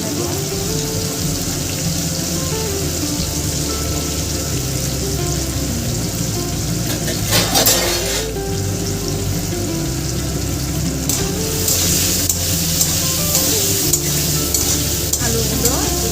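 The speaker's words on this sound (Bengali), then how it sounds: "আলুগুলো ঢেকে ঢেকে ভাজা করে নেব" Potatoes fry in a pan with salt and turmeric, giving a continuous sizzle as they are stirred, with a brief running-water splash midway.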